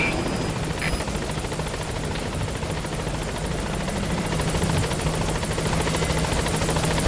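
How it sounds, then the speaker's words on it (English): In the video game Metal Gear Solid V: The Phantom Pain, a helicopter arrives at a landing zone. Its steady, loud rotor thrum and engine whine continue unbroken, heard close. "Let's get that helicopter."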